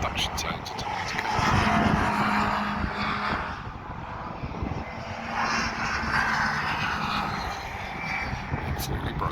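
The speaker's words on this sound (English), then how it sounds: "Just listen to the induction sounds until I need to go." Classic racing cars thunder past on the Thruxton circuit during a Classic Sports Car Club meeting, a loud continuous engine and induction roar that swells and fades as cars pass, with faint crowd voices underneath.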